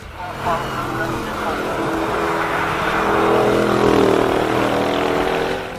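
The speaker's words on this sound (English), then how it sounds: "Cobra, huge power, V8, Daytona Coupe. It's just a spectacular car." A Cobra Daytona Coupe V8 race car climbs a hill at a hillclimb event, its engine note steady and building through the clip with a broad rumble, while a voice talks over it throughout.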